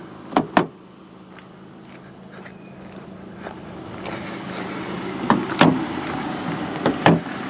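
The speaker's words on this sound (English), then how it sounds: "push my electronic button" Power door locks on a parked car clunk shut at the press of a remote button, with two sharp thunks up front, then a stretch of fans and air conditioning, and later a few more mechanical clicks.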